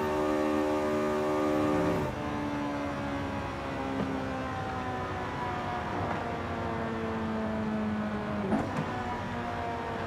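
A Ferrari F430 Scuderia engine in Forza Horizon 5 holds a high, steady whine at speed while cruising downhill, with gear shifts stepping the pitch down and short rises between them, loud and continuous.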